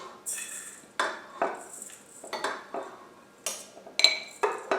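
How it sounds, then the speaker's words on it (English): A spoon clinks and scrapes against a KitchenAid mixer bowl while scooping whole grain pancake batter, giving repeated light metallic taps and scrapes at an uneven rhythm, close and fairly clear. "So go ahead and take the spoon and just scoop that in there for me, Ridge."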